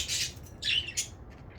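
Pet budgies squawk in three sharp, raspy bursts close by during their breakfast time, each harsh call separated by short gaps of quiet room tone.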